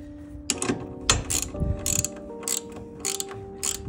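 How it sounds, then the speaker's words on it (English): A ratchet wrench tightens the locking nut on a metal Starlink roof mount, giving a close, steady series of clicking strokes in regular bursts with short pauses between them. "Next, the final piece is just to tighten the locking nut."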